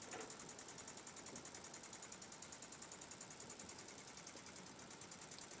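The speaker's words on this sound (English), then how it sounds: "it's quite a quiet little engine" A half-scale wig-wag micro steam engine runs slow and quiet, giving a faint, steady, rapid mechanical ticking with no talk over it.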